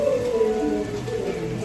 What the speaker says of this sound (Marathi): आता पावसाचा एक आगमन एकदम मस्त जोरदार झालं आहे बघा.